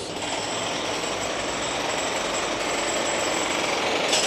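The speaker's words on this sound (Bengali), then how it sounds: "ওখানে তো প্রচুর কাজ চলতেছে" A jackhammer pounds nonstop at street construction work in Hong Kong, a loud, rapid, rattling hammering heard close by with no pauses.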